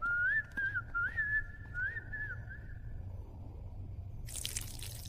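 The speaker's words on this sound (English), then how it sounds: "I'm gonna go ahead and whistle." A person whistles a short, wavering melodic tune close by for about three seconds, then stops, and a burst of hissy noise follows.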